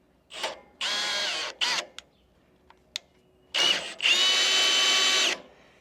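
A Milwaukee power drill whirs in several short bursts and two longer runs on a DIY sawmill, loud and close, with brief silent pauses between.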